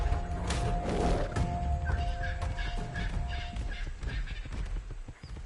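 Horse hooves clip-clopping with occasional whinnies in Ark Survival Ascended, steady and fairly close over game ambience with faint bird calls.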